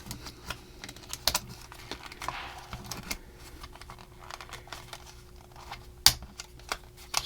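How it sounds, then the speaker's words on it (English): A plastic side detail slots into a panel of a premium 1:2 scale R2-D2 model, with light tapping and clicking handling noises and one sharp snap near the end, close and quiet. "it's going to slot in to the side of this panel"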